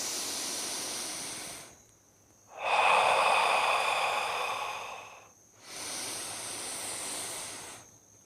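Three long, slow breaths in a guided energy-clearing exercise, drawn in through the nose and let out through the mouth; loud and close with short quiet gaps, the middle exhale the strongest and longest.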